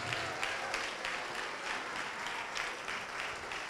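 A church congregation claps in worship for a few seconds, a steady, fairly faint wash of many hands with no voices over it.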